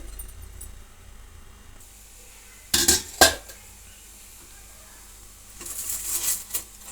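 A plate set down over a dosa pan while making bun dosa, giving two sharp metallic clatters close by against a faint kitchen background, followed by a soft scraping rattle.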